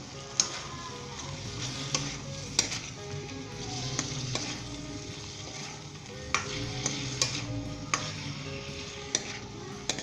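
A spoon stirs spicy baby potato karahi with green chillies, mint leaves and coriander in a pan, a steady low sizzle under repeated scraping and clinking strokes at irregular intervals, close up with no talking.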